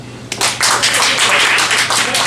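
A comedy-night audience at Cafe Diem in Richmond, Virginia, bursts into steady applause that lasts about two seconds. The clapping comes from a room full of people and stays dense and even throughout.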